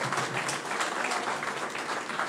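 An audience applauds at a public gathering, a dense and steady patter of many hands clapping at moderate distance for a couple of seconds, with no clear voices.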